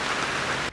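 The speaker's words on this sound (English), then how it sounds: "It is rainy." Steady rain falls outside on a Monday morning by a garden, a dense even hiss of drops on surfaces that continues evenly before cutting off abruptly near the end.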